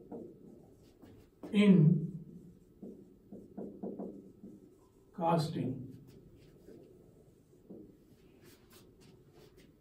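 A heading being written on a board during a lecture on casting makes a series of short, quiet tapping and scratching strokes between stretches of someone speaking.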